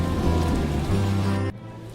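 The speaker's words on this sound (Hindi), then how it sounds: "बरसात फिर से शुरू हो जाती है" Steady cartoon rain pours down in a village scene, a dense hiss with a low rumbling bed that cuts off abruptly near the end, leaving a quieter tail; no one speaks.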